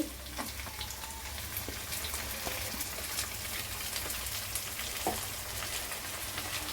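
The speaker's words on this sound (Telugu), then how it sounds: "ఇదిగోండి ఉల్లిపాయలు బాగా వేగినాయి కదండి ఇప్పుడు ఇందులో టమాటా వేసుకుందాం అండి" Onions frying in a pan for a Godavari-style broad bean curry: a continuous, busy sizzle and crackle that stays close and fairly even, with scattered sharper pops and no voice over it.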